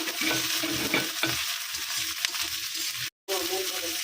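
Dried chilli and chopped tomato fry and are stirred in a pan for khichuri, a steady close sizzle with scraping stir strokes, briefly cut to silence near the end.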